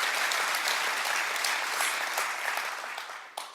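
A Sabbath School congregation claps at the end of a session, a steady wash of many hands that holds evenly before thinning and tapering off near the end.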